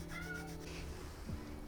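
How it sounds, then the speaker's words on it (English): Plaintive meowing from a cat outside asking to come back in, two or three wavering calls close by, heard on their own without speech. "there's a kitty outside that wants to come back in."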